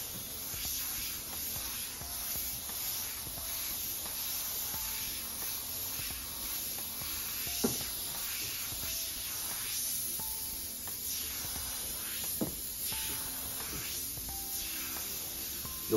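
An airbrush sprays paint for freehand fire artwork, giving a steady, continuous hiss of air throughout with faint background sounds and a couple of small clicks.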